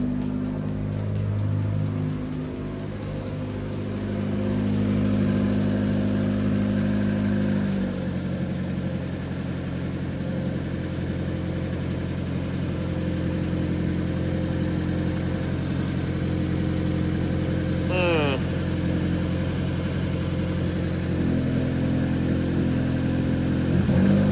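A Mazda Miata engine idles high after a throttle body spring install, giving a steady, close mechanical hum with a slight shift in pitch partway through and no voices.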